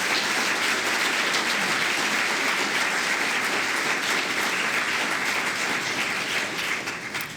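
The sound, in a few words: audience applause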